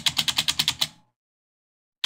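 Clicking from a horror video game set in a forest, a quick series of about eight sharp, evenly spaced mechanical clicks that stops abruptly, followed by silence and one final click.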